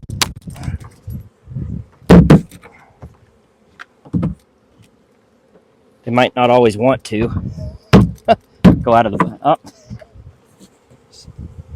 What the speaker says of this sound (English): let's go ahead and shake the rest of these bees into the colony